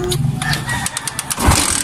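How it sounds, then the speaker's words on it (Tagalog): A Euro 125 motorcycle engine just fitted with a new spark plug cranks in rapid pulses, then catches and runs roughly, loud and close. "napaandar na natin yung motor"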